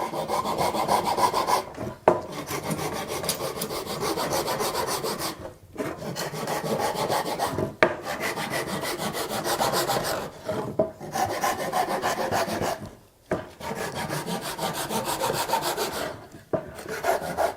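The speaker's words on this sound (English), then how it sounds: "I don't know if you can hear the pitch changing as I saw." A hand saw cuts through wood in steady back-and-forth rasping strokes, close and continuous, with brief pauses between bursts of sawing.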